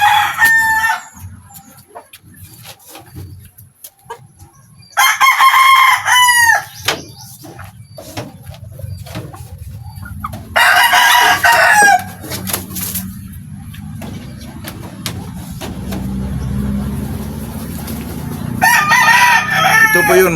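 Backyard Lemon84 cross rooster crowing several times close by, loud full crows separated by pauses, with faint clucking and someone speaking quietly between them.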